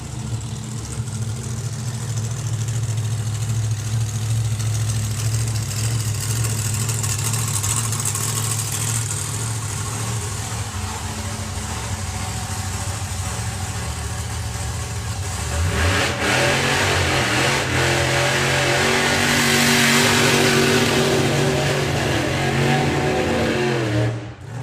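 Pontiac Star Chief drag car at a nostalgia drag racing meet at Santa Pod Raceway, its engine idling with a loud steady rumble before revving up sharply into a harsh, rising roar in the second half.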